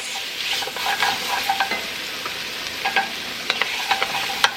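Potatoes sizzle and crackle in a pan over medium heat while a utensil stirs them, with scraping strokes for potato soup. The frying hiss stays steady and close, and stirring clicks rise above it, with no voices.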